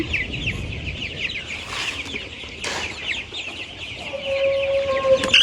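Many chickens on a poultry farm cluck and chatter continuously in a dense, busy chorus, with an occasional louder call standing out.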